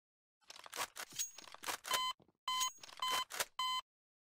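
Beeping from a stealth-action video game, a run of bright electronic tones in short bursts, some rising and sweeping, several steady held beeps near the end, loud and alone without speech.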